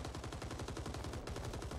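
Rapid, continuous automatic fire from an Owen gun in the Vietnam-era shooter game Rising Storm 2: Vietnam, a dense, loud burst of evenly spaced shots running through the whole stretch with no talk over it.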